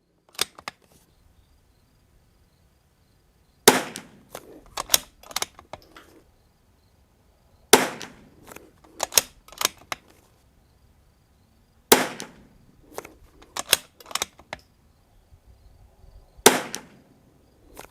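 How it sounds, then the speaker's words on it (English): Rimfire rifle shots fired with Eley Club ammunition, including a Winchester 52, ring out as a string of sharp close cracks at irregular intervals, separated by quiet gaps and faint handling clicks. "Let's put another 5 rounds on that middle target."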